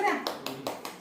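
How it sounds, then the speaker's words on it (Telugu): A few quick hand claps, four or five sharp taps, at a toddler's second birthday celebration with family, a voice audible at the start. "చప్పట్లు"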